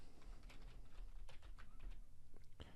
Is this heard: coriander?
no